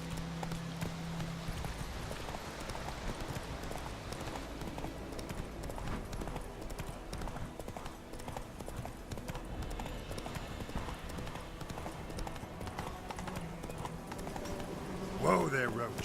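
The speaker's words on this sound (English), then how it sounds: "Whoa there, Roach." A horse gallops in The Witcher 3 video game, its rapid, rhythmic clip-clop hoofbeats running steadily and fairly quietly throughout, with talking over them and a whinny near the end.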